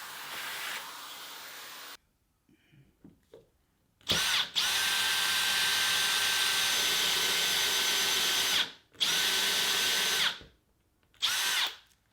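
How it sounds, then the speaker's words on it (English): A power drill runs loudly in long sustained bursts into a freshly sanded wooden tabletop, whining steadily with short stops between runs, close up with no talking. "it was a little bit disconcerting taking a drill bit to a freshly sanded tabletop"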